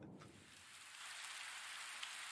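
Rain falls in an anime scene, a soft even hiss of rain on a surface, faint and continuous, with no talking.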